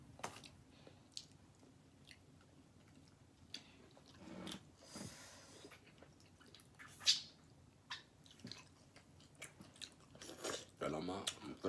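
Someone eating pizza close to the mic during a mukbang: wet, squishy chewing and biting that comes and goes in soft irregular bursts over a quiet background, with occasional louder smacks and no talking.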